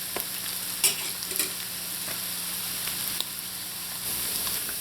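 Potatoes frying in a pot for Trinidad-style fried aloo, a steady soft sizzle with a few brief scraping stirs, close by and without talk.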